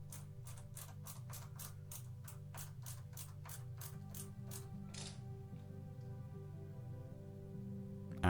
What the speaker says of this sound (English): Now I just need to attach the screw.